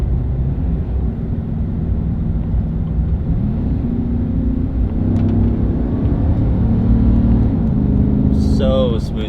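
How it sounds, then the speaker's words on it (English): A 2015 Chevy/GMC 1500 pickup's engine rises and falls in steady, continuous rumble as the transmission shifts smoothly through gears, heard from inside the cab, with a brief higher whine near the end. "It shifts so smooth, it rev matches like so good."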